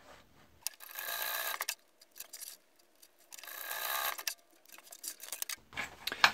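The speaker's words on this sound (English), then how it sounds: "you can just sew through there to close that" A sewing machine stitches a lockpick pouch closed in two loud, steady bursts of about a second each, separated by a pause and followed by a few brief clicks and handling noises.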